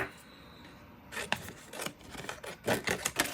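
Scissors snip through paper while cutting out shapes for a handmade notebook. After a quiet start there are several close, irregular crisp cuts and rasps.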